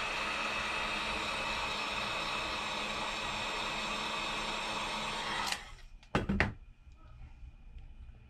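Heat gun blowing steady broadband airflow onto the back glass of a Samsung Galaxy S10 Plus, loud and continuous, then cut off with a couple of sharp handling knocks near the end.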